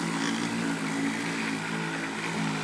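A motorized polisher buffs a crazed, clouded headlight with rubbing compound, giving a steady, close, loud motor whir with a rough buzzing texture throughout, alone with no talk.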